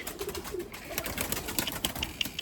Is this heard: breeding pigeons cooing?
yes